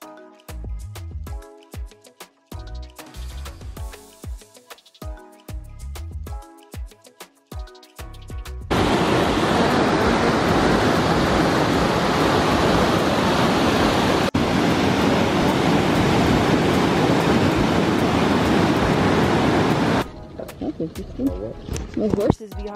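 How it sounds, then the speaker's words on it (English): A steady roaring rush of falling water from Hidden Falls in Grand Teton National Park fills the middle stretch, loud and continuous, with footsteps and talk before and after. "I can hear the waterfalls though."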